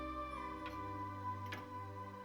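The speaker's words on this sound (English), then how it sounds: "a grandfather clock" An old grandfather clock in a house ticks steadily, a soft regular tick-tock over a sustained low tonal drone, with no voices.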